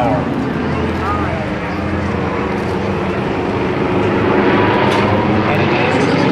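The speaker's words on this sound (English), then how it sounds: "The 400 horsepower engine gives them a maximum speed of about 260 miles per hour." Yak-52 propeller planes with 400-horsepower radial engines fly at an airshow, a loud, steady engine drone that lasts throughout. A commentator's voice is faintly mixed in beneath it.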